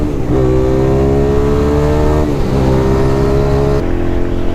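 A Hyosung 650cc motorcycle engine roars loud and close, its pitch climbing steadily through a rev and dipping briefly before rising again, then cutting to a lower drone near the end.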